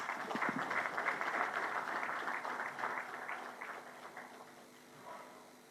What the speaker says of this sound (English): Honorable Chivumbi deserves a better round of applause than that